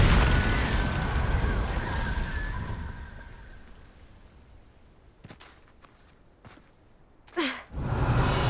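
Spell explosions from Confringo and Bombarda in Hogwarts Legacy, with a dense burst of blasts early and a few sharp cracks later, ending in a loud whooshing boom near the close.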